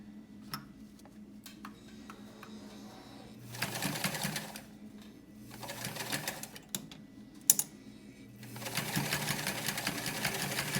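A sewing machine stitches through several layers of a waterproofer, running in three short bursts of rapid whirring between pauses filled with faint clicks and handling noises, close and moderately loud.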